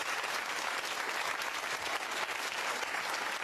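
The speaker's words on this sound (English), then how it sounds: "Give him a round of applause." A talk show studio audience applauds a departing guest: thick, continuous clapping from many hands, loud and even throughout with no voices over it.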